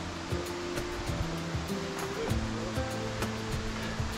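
Steady roaring rush of a waterfall on a hike at La Tigra in Honduras, a broad, continuous wash of water noise heard up close with no one talking.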